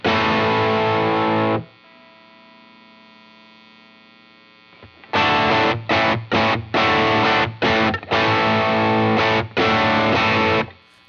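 Electric guitar played through a Lytt Effects pedal on its Bluesbreaker side with symmetrical clipping, giving a driven, mildly overdriven tone: a sustained chord that rings out, then a run of choppy rhythmic strums.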